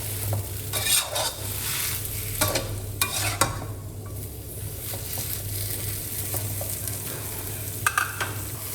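Rice noodles for Thai pad see ew stir-fried over low heat: a continuous sizzle with repeated scraping and clinks of a spatula lifting and turning against the pan, close and moderately loud, with no speech.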